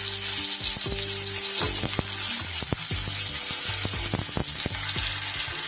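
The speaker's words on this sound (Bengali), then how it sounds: "তেল গরম হলে প্রথমে আমি আলুগুলোকে একটু ভেজে নেব" Long-cut potato pieces frying in hot oil in a pan, a steady bright sizzle running throughout with faint scraping and clinks of a utensil mixed in, close and fairly loud, with no talking.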